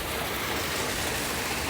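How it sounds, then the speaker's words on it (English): A pool waterfall splashes and rushes in a steady, broadband wash at a backyard pool with a cabana, continuous and fairly close with no voices. "waterfall"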